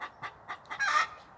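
Chickens clucking close by in a garden run, a quick series of short rhythmic clucks that rises into a louder, drawn-out squawk at the end.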